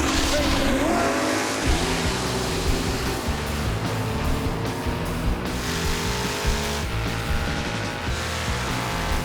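Chevy and Ford drag cars launch at Maple Grove Raceway, their engines roaring loud and continuous with rising revs and gear changes across the run, and a crowd or voices faintly underneath.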